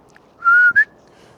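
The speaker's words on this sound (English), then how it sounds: "Let's pip him with a whistle." A dog whistle blown to call a dog named Moss, two short, sharp, close pips: a longer steady tone followed quickly by a brief rising one, in an otherwise quiet outdoor setting.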